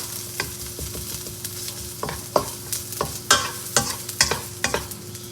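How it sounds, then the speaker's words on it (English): Snow pea leaves being stir-fried in a hot pan with ginger and garlic, giving steady sizzling broken by repeated sharp scraping strokes of a spatula, close and fairly loud, with no voices. "Give that a quick fry."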